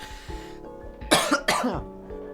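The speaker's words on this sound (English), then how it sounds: "I still have a cough" Two harsh, close coughs in quick succession from a person with a lingering cough, standing out loudly over a quiet indoor background with faint low hum.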